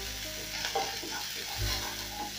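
Coriander stems sautéing with garlic in a hot pan for a sausage stew, a steady close sizzle with a few stirring scrapes and clinks, no talking.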